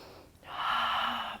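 A single deep, audible breath during a yoga high lunge pose: a short pause, then a long, airy exhale close to the microphone, rising quickly and holding steady before it tapers off.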